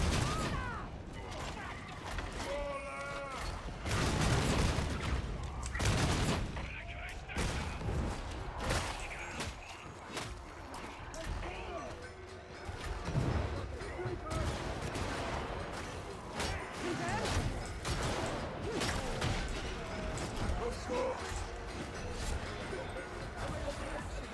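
Gunfire in Warhammer 40,000: Darktide, bursts of shots and heavy impacts coming in clusters with loud peaks, mixed with combat clatter and voices talking throughout.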